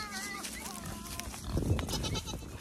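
Goats bleating at an animal sanctuary, several wavering calls close by early in the clip, with a person speaking briefly over farmyard background noise.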